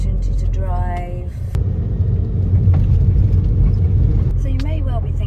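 Van driving on a road in France in wet weather: steady low engine and road rumble with continuous cabin noise. Someone talks briefly over it at the start and end.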